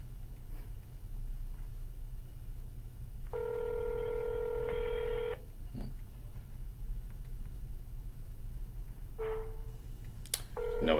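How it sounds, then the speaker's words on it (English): A phone dials out on a cold call, giving a short series of tones followed by a steady sustained tone, then another brief tone later, over a low rumbling background, with no talking. "We're calling back that number that had the voicemail with his name on it."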